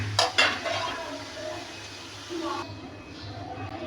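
Bottle gourd curry stirred in a pot, with a couple of sharp utensil clinks and scraping over a soft sizzle, close by, with a voice talking under it.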